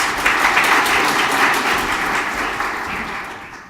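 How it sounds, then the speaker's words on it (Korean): Audience applause at a news outlet's founding anniversary ceremony as a vice minister is welcomed to the podium, a dense steady wash of clapping that gradually fades toward the end. "큰 박수 부탁드리겠습니다."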